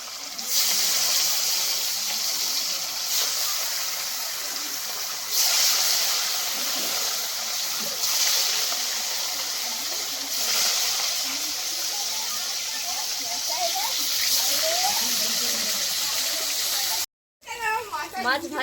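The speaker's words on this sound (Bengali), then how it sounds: "তেল গরম হয়ে গেছে, এবার মাছ ভাজার জন্য মাছ দিয়ে দেবো" Fish sizzles in hot oil in a home kitchen, a loud, continuous crackling hiss that swells in waves for most of the time before a brief cut, with faint voices underneath.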